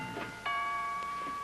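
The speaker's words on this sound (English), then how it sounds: "would you mind answering the doorbell" A soft electronic doorbell chime rings twice in quiet surroundings, tones lingering briefly after each strike.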